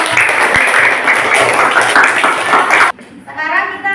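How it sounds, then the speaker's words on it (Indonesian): Elementary schoolchildren in a fifth-grade class clap loudly for a presenting group. The burst is dense and stops abruptly, followed by a voice. "kita kasih tepuk tangan dulu untuk kelompok 1"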